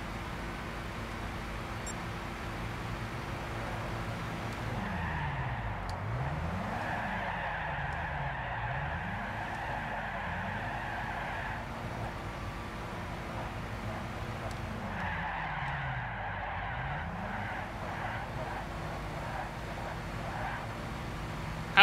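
Car engine revving steadily with tire skids in the video game Gran Turismo 6, a 4WD challenge event, engine tone rising and falling through turns, continuous and fairly loud with no talk.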